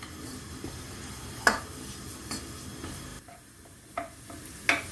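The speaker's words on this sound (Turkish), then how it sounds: "İki yemek kaşığı unumu da koydum. Güzelce kavuruyorum." Two spoonfuls of flour being toasted and stirred in a pan for a cream-free mushroom soup: a soft continuous sizzle with several sharp scraping stir strokes spaced through it, close and fairly quiet.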